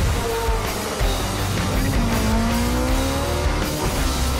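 A car burns rubber with tires squealing in long rising and falling screeches over a loud, steady engine roar throughout.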